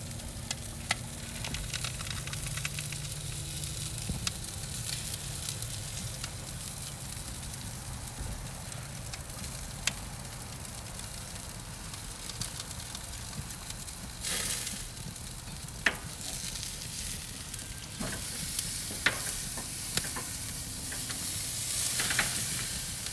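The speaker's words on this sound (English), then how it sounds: "I'm gonna let that sear just until that gets nice and brown" Beef tri tip searing on a Char-Griller Gravity 980 charcoal grill, a steady close sizzle and crackle running throughout with a few sharp pops and no talk.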